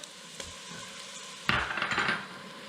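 Onion going into a hot pan on a Nigerian cornchaff recipe, a faint clink and then a sudden burst of sizzling that flares and fades over about a second.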